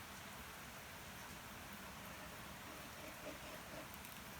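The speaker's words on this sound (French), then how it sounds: "la pluie a fait son grand retour malgré le soleil, et il tombe des cordes" Heavy rain pours down outdoors as a steady, even hiss with no break, rather faint and distant, with no voices or other distinct sounds over it.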